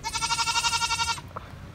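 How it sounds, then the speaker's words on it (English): A baby goat at a fairground gives one long, quavering bleat lasting about a second, loud and close, then a brief quiet bleat follows against low background noise. "We got goats. Little bitty goats. Little baby goats."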